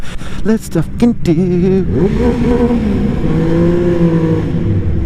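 A 2016 Triumph Speed Triple S engine revs hard inside a tunnel, loud sustained roar echoing off the walls, rising and holding, with someone shouting briefly at the start.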